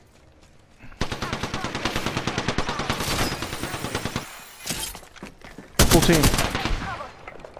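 Rapid automatic gunfire rattles in a PS4 shooter game, with long dense bursts, a short pause, then another loud burst, while a player speaks briefly.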